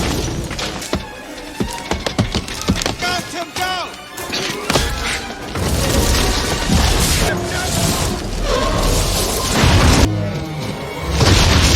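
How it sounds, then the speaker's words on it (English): A car crashes down through breaking tree branches in a movie scene, a dense run of loud booms, cracks and smashing impacts over a music score, growing heavier and more sustained toward the end. "the branches begin to break and the car comes crashing down toward them."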